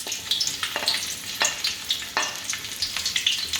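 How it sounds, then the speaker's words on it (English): Garlic hitting hot oil in a pan sizzles and crackles steadily, with repeated sharp stirring scrapes punctuating the frying at close range, no voices. "I've added 50 ml of oil into the hot pan, and I'm going to add the garlic here at first."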